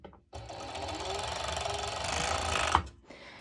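A sewing machine runs steadily through mesh fabric for about two and a half seconds, a continuous loud mechanical whir that starts abruptly and stops sharply near the end.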